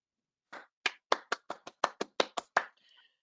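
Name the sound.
one person clapping on a video call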